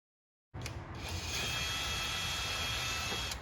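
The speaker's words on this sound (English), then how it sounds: "We have two small screws to remove from this panel." A small powered screwdriver whirs steadily while removing small screws from a Honda Pilot dashboard panel, starting abruptly and holding a thin, faint mechanical buzz for about three seconds.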